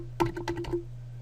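Short burst of several quick clicking keystrokes on a computer keyboard, close and crisp, then quiet room hum.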